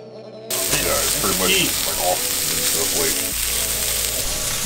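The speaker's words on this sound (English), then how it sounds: "Griddle frying some steaks" Steaks frying on a griddle give a loud, steady sizzle that starts abruptly after a brief quieter moment and continues close and unbroken throughout.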